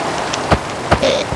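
Rain falling in the video game Minecraft, a loud steady patter with a few sharper drop-like taps standing out, heard alone without speech.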